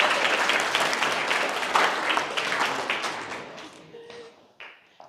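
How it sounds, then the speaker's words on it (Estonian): Applause from a school audience at Laupa Põhikool welcoming a guest speaker to an inspiration-week assembly, dense clapping that thins and fades over several seconds with a few scattered voices near the end. "võtame ta aplausiga vastu"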